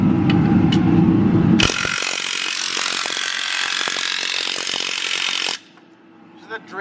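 A power tool drives transmission bolts into a Chevrolet Colorado during a Powerglide swap with a procharged LS, giving a loud, harsh mechanical whirring burst of about four seconds that follows lower rumbling and ends in quieter shop noise.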